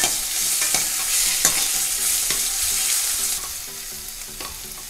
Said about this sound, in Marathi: ठेचलेला लसूण घालूया. लसूण सोनेरी रंगावर परतून घेऊया.